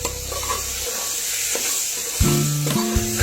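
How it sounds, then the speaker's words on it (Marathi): Mixed vegetables sauté in a pan with turmeric and mutton masala, a steady sizzle with scraping stirs, followed by a few clinking utensil knocks near the end. "त्याच्यात थोडीशी हळद आणि थोडासा मटन मसाला टाकते. आणि परतून घेते."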